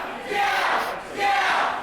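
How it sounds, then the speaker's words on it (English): A pro wrestling crowd chanting meow in two long, swelling waves, loud and massed voices echoing through the arena. "Now just mocking the meow chant."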